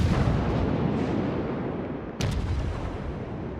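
Naval cruiser HMS Emerald fires its guns in a naval warfare video game, a dense continuous roar of deep artillery rumble with one sharper blast near the end, steady and fairly loud without speech.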